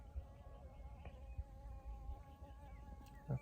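Honeybees buzz around outdoors on a mountain morning, a faint, steady insect hum in open air, with occasional brief knocks and rustles close by and no speech.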